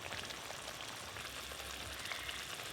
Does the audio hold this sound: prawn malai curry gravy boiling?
yes